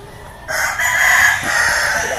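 A young gamecock stag at a game farm crows one loud, close cock-a-doodle-doo that starts abruptly and holds for about a second and a half, with faint background noise around it.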